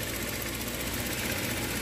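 A Toyota car engine idles roughly with a misfire after a battery change, giving a steady, close, unbroken rumble with no voices over it.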